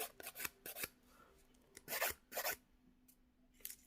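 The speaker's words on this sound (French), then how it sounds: "Alors, il y a la lime qui laisse les grains sur moi." A nail file rasps across false nails from a budget nail kit in short, close strokes, several quick scratchy bursts separated by brief quiet gaps.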